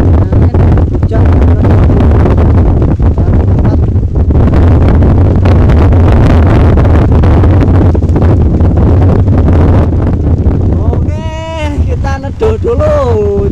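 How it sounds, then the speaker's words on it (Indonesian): Strong storm wind roars against the microphone at Kedung Ombo reservoir with a dense, rushing wash of rain, loud and continuous, with voices briefly audible near the end. "hujan campur angin kencang"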